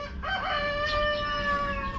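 Three-month-old Rhode Island Red chickens crow and cluck together, a drawn-out strained call over steady chatter, close and fairly loud.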